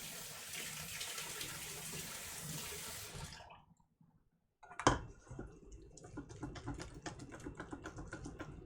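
Water pours into a hot cooking pan for a pork tenderloin pan sauce: a steady rushing stream, a short pause, then a sharp hiss that settles into crackling sizzling.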